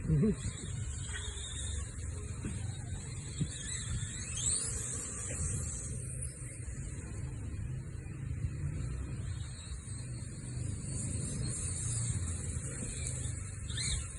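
An RC Rival MT10 monster truck runs at full throttle, its electric motor giving a high whining buzz that rises and falls with acceleration over a gritty rolling rumble, under someone talking.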